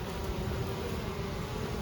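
Honeybees from a newly installed colony, short on brood and comb, buzzing steadily inside a wooden hive box, a dense continuous drone close by with no voices.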